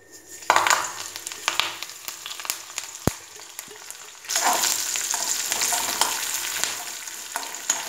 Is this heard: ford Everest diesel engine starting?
no